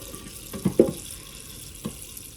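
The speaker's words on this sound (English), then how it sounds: "let me go ahead and put some water in this, and we will cook our broccoli" A kitchen tap runs briefly into a pot being filled for cooking broccoli, a few short splashing bursts and a later faint spurt, close and fairly quiet, with no talking.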